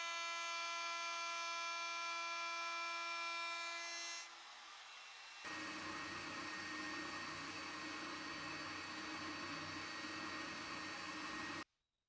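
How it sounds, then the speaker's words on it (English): Electric spindle sander shaping a walnut and ash semi-hollow Telecaster-style guitar body in a workshop: a steady high motor whine, then a louder, rougher grinding as the wood meets the drum, cutting off abruptly at the end, with no talk. "So I'm going to put it back onto the spindle sander and just use that to creep up to where I've"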